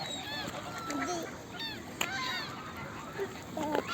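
Several geese honk in short, repeated calls, close by at an outdoor spot where ducks, swans, gulls and pigeons are being fed bread, with a voice and other chatter mixed among the calls.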